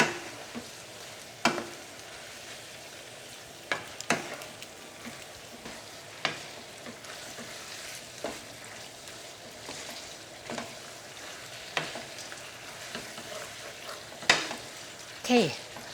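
Spicy pork and vegetables stir-fry over medium-high heat, a steady close sizzle broken by periodic scraping and tossing strokes as the pan is stirred, with no talking.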